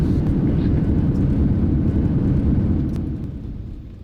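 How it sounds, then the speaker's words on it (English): A Boeing 737-800 lands in Microsoft Flight Simulator with a loud, steady low roar of engines and rolling noise that fades toward the end, no voices heard. "What a buttery smooth landing."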